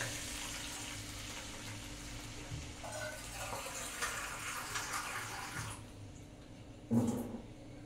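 Water runs steadily into a cooking pot while semiya upma is being prepared, a continuous soft rushing stream that ends with a brief louder splash near the finish.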